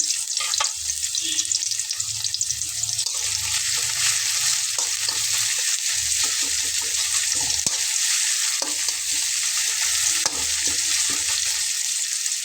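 Half a teaspoon of whole cumin seeds tempers in hot oil for a lentil dal, giving a steady, close frying sizzle with occasional light stirring clicks and scrapes and no talking.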